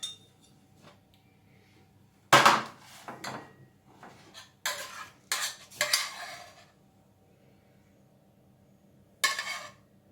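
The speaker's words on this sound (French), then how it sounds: "Là, on va saucer les poissons" Aioli sauce spooned generously over fish fillets in a bourride, a few bright scraping clinks of a spoon against a dish in short bursts, with quiet gaps between them.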